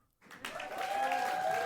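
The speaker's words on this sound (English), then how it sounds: "you need to give yourself a round of applause." A listening audience breaks into applause that rises quickly from silence and holds as a steady, moderately distant clatter of clapping.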